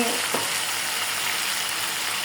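Chicken chaap sizzles and fries in a hot pan with a steady, close hiss and faint crackles throughout.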